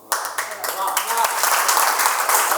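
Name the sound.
audience applause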